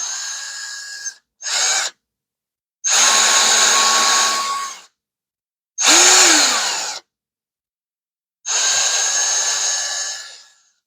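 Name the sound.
drill drilling out holes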